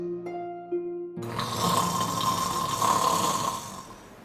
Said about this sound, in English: Are you still snoring?